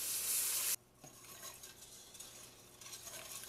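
Chicken broth poured into a pot for a spaghetti gratin, a loud bright pouring rush for the first moment, then quieter liquid stirring and faint pot noises.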